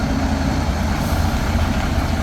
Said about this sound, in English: this is how you get the truck to move forward